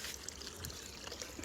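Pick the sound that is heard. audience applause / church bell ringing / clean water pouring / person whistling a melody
clean water pouring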